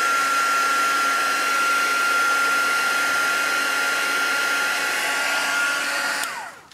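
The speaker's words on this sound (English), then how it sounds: "Before I go any further, we'll just dry that off." A craft heat tool blows hot air to dry spritzed ink on a seaside-themed card, a loud, steady, close whooshing hum with a high whine that runs throughout, then winds down as the tool switches off.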